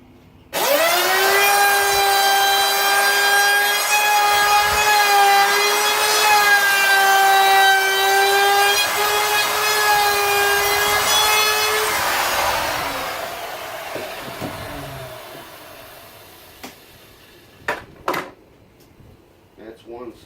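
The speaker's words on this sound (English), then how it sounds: "I'm going to get my router. With 1/4 inch round over. And just basically just going to round off the edges." A router fitted with a 1/4 inch round-over bit rounding the edges of a wooden sample board, a loud high whine held steady for about twelve seconds, then winding down, followed by a few clunks.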